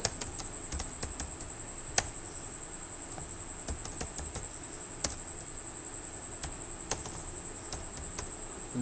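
Keys on a computer keyboard clicked in an irregular stream while filling in a sign-up form, fairly quiet and close, with a few sharper taps and a steady high electronic whine behind it.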